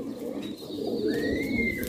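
Pigeons kept for kabootar bazi coo in a continuous low warbling murmur close by, with a couple of thin whistling tones drifting above.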